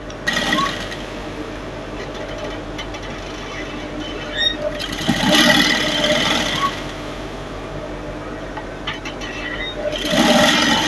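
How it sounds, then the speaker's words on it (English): A sewing machine top stitching the side of a jumpsuit trouser, a steady mechanical whir with louder running bursts near the middle and at the end, close and fairly loud. "Then I'll top stitch it to the side of the trouser."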